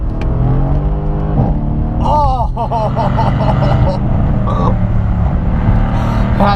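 A 2017 Mercedes C63 AMG S with exhaust baffles open accelerates at full throttle, its loud, rising engine roar heard from inside the cabin with gear-shift breaks, while a voice exclaims over it.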